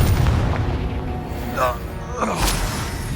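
A Confringo blasting spell goes off in Hogwarts Legacy: a couple of sharp whooshing bursts with a booming impact over steady game background noise, and voices speak beneath it.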